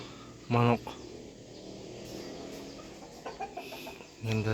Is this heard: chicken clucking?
yes